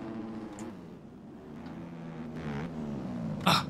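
A dirt bike engine in the motocross game MX Bikes drones and shifts pitch as gears drop, a buzzing tone sliding up and down, moderately close with a brief sharp burst near the end.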